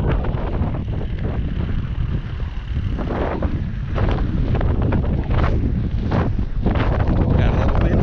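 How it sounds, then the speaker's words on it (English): Steady wind buffeting the microphone on an outdoor trail in Mitchell, South Dakota, a loud continuous roar with gusty swells throughout. "Got a little wind fighting us."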